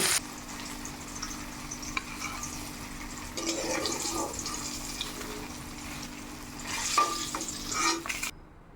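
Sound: frying hilsa fish in oil

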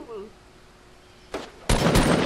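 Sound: gunfire in the video game Fortnite

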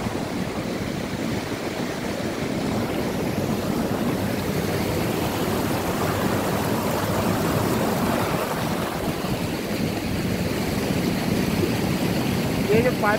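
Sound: flowing stream of water from Kailash

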